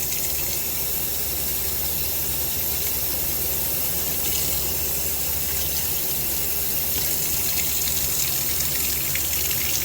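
Water gushes steadily over potted orchids being flushed, a continuous hissing, splashing stream close by that runs without pause.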